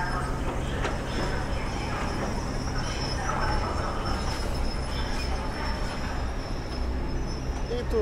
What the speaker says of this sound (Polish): I tu obok tej budowy jeżdżą pociągi